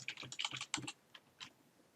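Computer keyboard typing into a software search field: a quick burst of close, crisp key clicks over the first second, then a few isolated taps, with no talking.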